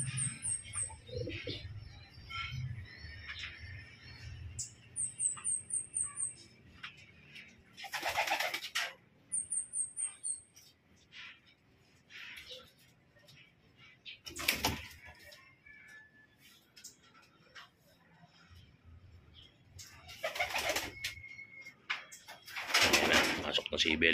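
Homing pigeons coo at a loft during a 43–45 km training return in Lumban, Laguna, with soft repeated coos and chirps among bursts of wing flutter and background noise, someone talking in between.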